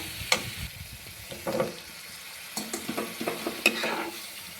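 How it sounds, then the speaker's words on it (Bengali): Fried potatoes being stirred into sizzling masala in a pan for cabbage curry, with intermittent scraping strokes and a low, steady fry, close and fairly quiet with no talking. "এবার এর মধ্যে আমি দিয়ে দেবো ভেজে রাখা আলুগুলো।"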